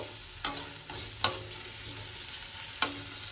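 Maggi noodles with vegetables frying in a pan over a low flame, a steady close sizzle broken by a few sharp scrapes and taps of a spatula stirring.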